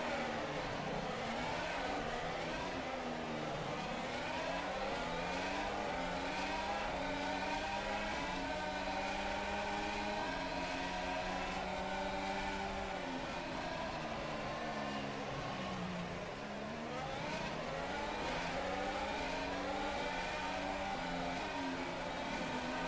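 Several F1 2021 cars race through Monaco in an rFactor 2 sim racing league, their high-pitched engines droning continuously with rising and falling pitch sweeps as three cars pass in close succession.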